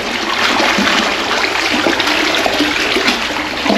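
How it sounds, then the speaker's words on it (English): Loud, steady rush of water pouring and churning continuously, a broad roar with splashing throughout and no voices. "Literally a torrent of water now."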